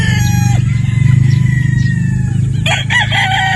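Gamefowl roosters, battle stags of sweater and Boston bloodlines, crowing loudly and close at a Cebu farm, a long drawn-out crow overlapping with further crows, over a steady low hum.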